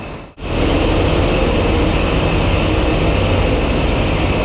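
Engine of the Arafat 7 passenger launch running at 735 RPM on a Dhaka to Barisal river trip, a loud, steady, close mechanical roar with a dense low drone after a brief dropout near the start.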